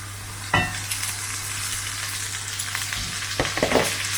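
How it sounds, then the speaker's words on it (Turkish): Rice roasts in a pan with canned peas, giving a soft continuous sizzle broken by a few scraping stirs of a spoon against the pan. "Pirincimiz de kavruldu."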